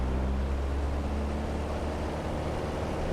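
A Piper Cherokee 180 light aircraft engine runs at full power, heard from inside the cabin as a loud, steady, low-heavy drone with no change across the moment.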